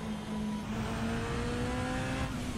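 A Ferrari F40 engine in Assetto Corsa droning at steady revs with a sustained tonal hum, close and continuous after a spin, with no talk.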